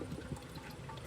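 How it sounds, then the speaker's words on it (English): Motor oil pouring through a funnel into the engine of an Infiniti G37 during an oil change, a faint, steady liquid gurgle with no voices. "You just want to pour your oil"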